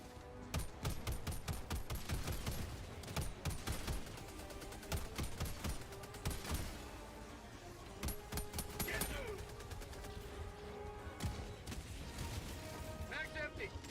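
A sentry turret in Helldivers 2 fires long bursts of rapid, rattling machine-gun shots, loud and close, mixed with mechanical clanks and impacts while voices talk over the chaos.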